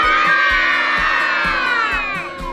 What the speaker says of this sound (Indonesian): Coba teriakan semangatnya mana?